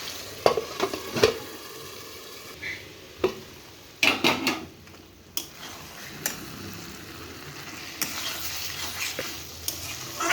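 Tomato chicken curry being stirred and sautéed in a pan, with steady sizzling frying broken by sharp scrapes and clinks of a spoon against the pan at irregular intervals, close up and with no talking.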